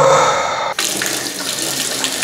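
Tap water runs hard into a bottle at a refill point, a bright rushing pour that briefly cuts out and then resumes as a softer, steadier splashing flow.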